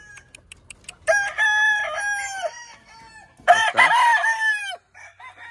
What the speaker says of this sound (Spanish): El gallito Kelso con una hembra Kelso.